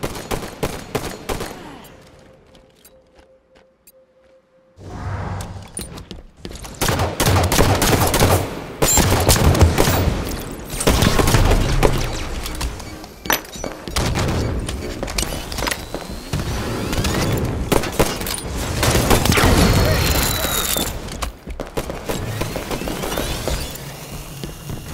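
Rapid gunfire in a Halo 5 Ranked Slayer match, a quiet lull followed by loud, sustained automatic bursts and individual shots rattling on for about twenty seconds.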